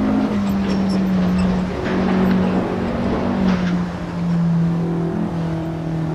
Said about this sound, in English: that's kind of what cobblestones do, with the frame rattling around pretty hard.